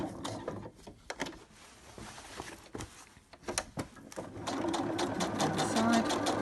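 A sewing machine stitches a fidget popper mat, running in short bursts with clicks and pauses before settling into a steady whir, while a person speaks nearby.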